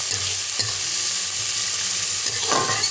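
Yam curry with chopped chillies fries in a pan, a steady close sizzle with scraping stirs and a few clinks throughout.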